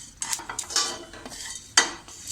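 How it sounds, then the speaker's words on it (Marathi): About twenty black peppercorns dry-roasting in a pan for Malvani kombdi vade flour, stirred so they scrape and rattle against the metal in uneven bursts, with one sharp clink near the end. "या 20-25 माझ्या काळ्या मिऱ्या आहेत. यासुद्धा आपण थोडंसं असे व्यवस्थित परतून घेऊया."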